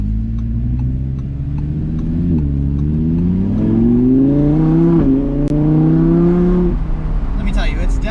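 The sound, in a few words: 2020 Audi R8 Decennium V10 engine exhaust revving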